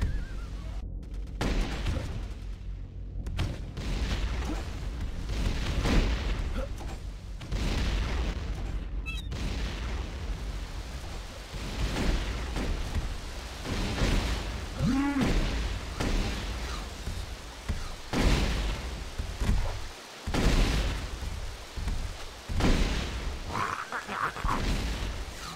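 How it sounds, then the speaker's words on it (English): Scorpion missile launcher fire in a shooter video game, repeated heavy booms and blasts scattered through a busy battle mix, loud and close. "Scorpion missile launcher."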